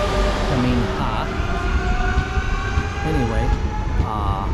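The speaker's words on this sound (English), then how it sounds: "yeah, that's the train" A train rumbles past nearby in Caminha, Portugal, with steady mechanical noise and a few squealing tones, continuous throughout.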